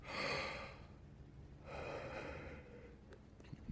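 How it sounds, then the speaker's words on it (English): Two long, breathy exhalations close by, a drawn-out yawn followed by a second airy sigh, with no talking. "Big yawn and back to sleep."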